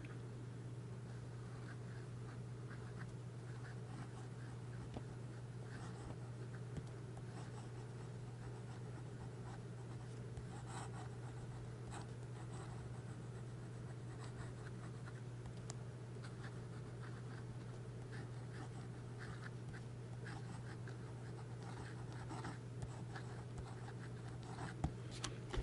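A fountain pen with a 1.1 stub nib writes on paper, a faint continuous scratching of strokes over a steady low background hum, close and quiet with no talking.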